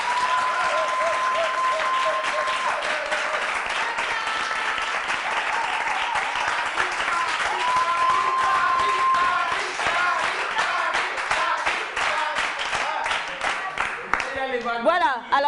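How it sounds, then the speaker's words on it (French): Loud, sustained applause from an audience at a reading-support event, dense clapping steady for about fifteen seconds, with a few whistles and voices cheering over it near the end. "je vais vous demander d'applaudir très fort pour elle"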